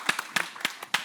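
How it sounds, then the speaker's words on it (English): A handful of distinct hand claps at a tech conference session, sparse and uneven rather than a full ovation, each clap sharp and close. "Applause."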